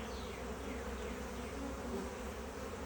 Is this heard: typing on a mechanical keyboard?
no